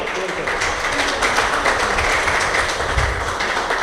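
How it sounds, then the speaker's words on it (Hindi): Poetry audience giving loud applause, a dense steady patter of many hands clapping that fills the whole stretch, close and continuous. "जोरदार तालियों के साथ।"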